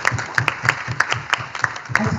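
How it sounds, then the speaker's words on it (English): An audience at a conference session on REDD+ and forest cooperation claps to honour an award recipient, moderately loud with a fairly regular clapping rhythm that carries on throughout. "Big round of applause."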